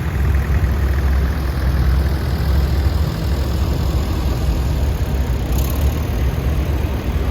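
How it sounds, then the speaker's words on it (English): An International 504 compact utility tractor runs in a show parade, its engine giving a steady, loud mid-to-low drone that holds at an even level throughout, with no voices over it. "It's an International 504. Little compact utility type tractor in the day."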